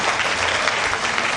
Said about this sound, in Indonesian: Saya minta tepuk tangan untuk Pak Ahok dulu.